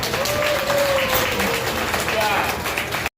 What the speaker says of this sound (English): Let's give Tim a round of applause, everybody.